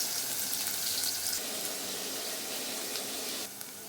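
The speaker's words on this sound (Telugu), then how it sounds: "కొన్ని సన్నగా కోసుకున్న ఉల్లిపాయలు మంచిగా ఇట్లా నూనెలో వేగాలి" Thinly sliced onions frying in oil with spices for a stuffed brinjal curry, giving a steady, close hiss and sizzle that holds level and eases slightly near the end, with no talking.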